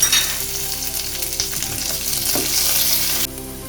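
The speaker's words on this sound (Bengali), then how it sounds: "এটাকে আমি ঘিতে ভাজা ভাজা করছি।" Loud, continuous sizzling of cashews and raisins frying in hot ghee, a dense crackling hiss with faint stirring scrapes, no voices.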